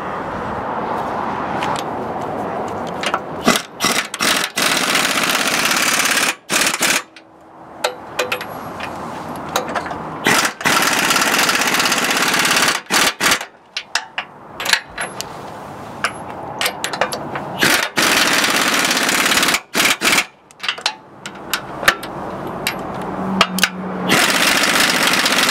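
Power tool tightening bolts on a SuperSteer P3032 steering bell crank, heard as repeated loud rattling impact bursts in short stop-start runs with brief pauses between them.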